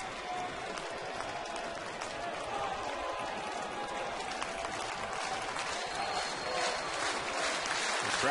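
A baseball crowd at Rogers Centre in Toronto stands and applauds, sustained dense clapping and cheering from a large stadium audience that swells slightly toward the end.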